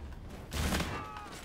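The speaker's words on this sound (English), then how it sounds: "These shotguns rip" Shots from an M.2187 Salvo shotgun in a video game come as a brief, muffled burst of gunfire, fairly faint against a steady background.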